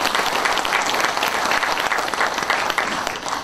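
A book concert crowd in Jeonju breaks into loud, sustained applause welcoming a National Assembly member, dense hand-clapping filling the hall without a break.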